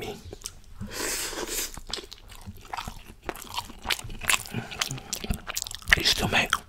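Close-up chewing of Korean black bean noodles, with wet slurps, bites and soft crunches repeating irregularly at the mic, and occasional quiet whispering between mouthfuls.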